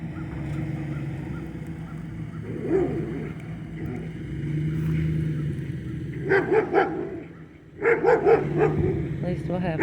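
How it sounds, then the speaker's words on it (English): A dog barks in a few short bursts near the end, loud and close, over a steady low rumble and people talking. "At least we'll have a good guard dog."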